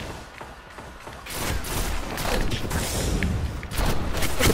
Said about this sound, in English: Look at that, the shotgun didn't even register again!